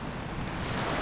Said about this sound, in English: Got two sounds, the far ocean sound and the closed shoreline.